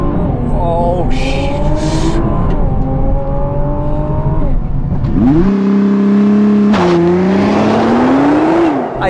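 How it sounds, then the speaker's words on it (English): Nissan GTR launching under launch control, the engine revving hard then pulling through rising gears with a loud, close whine and a sharp shift midway, no talking. "this launch was so violent"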